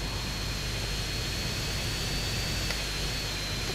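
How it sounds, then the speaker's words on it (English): Jet aircraft engine in GTA San Andreas: The Definitive Edition, a steady, loud, broadband roar with a faint high whine, continuous and close, no talking. "this is a quick jet"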